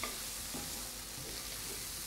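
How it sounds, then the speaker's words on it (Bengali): Beaten egg sizzling in a hot pan while being stirred, a continuous close crackle and hiss holding steady throughout, quiet overall with no voices. "জাস্ট ঘুটে মিশিয়ে দেবেন এবং মেকশিওর করবেন যে ডিমটা ভাজা ভাজা হয়"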